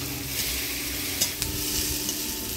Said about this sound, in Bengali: মাছটা ভাজা ভাজা হয়ে আসছে